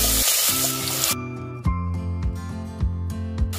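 Chopped onion goes into hot oil with cumin and whole spices, setting off a loud, close sizzle that carries on under a soft background melody.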